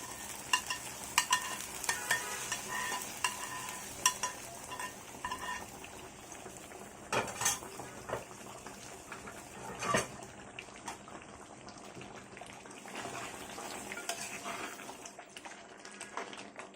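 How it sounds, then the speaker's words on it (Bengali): Hot tempering of spiced oil is poured into cooking beef for kala bhuna and stirred in, producing a bursting sizzle and hiss with irregular scraping stir sounds, loud at first and settling to a steadier bubbling fry. "দিয়ে দিচ্ছি বাগারটা মাংসের ভিতরে"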